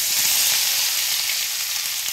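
Chopped onions frying in hot oil with asafoetida for jackfruit curry, a steady close crackling sizzle that stays even throughout, with only slight stirring and no talk.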